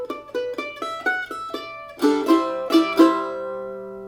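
Mandolin picked with alternating strokes: a quick, even run of bright plucked notes, then several fuller strummed chords ringing out, close and clear with no voices.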